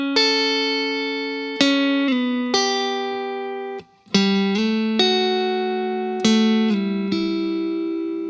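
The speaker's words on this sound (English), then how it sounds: "we're playing intervals of 6 using the pick and the middle finger" Clean electric guitar plucking sixth intervals with pick and middle finger, each pair ringing out and decaying before the next, at a slow, even pace with no talking.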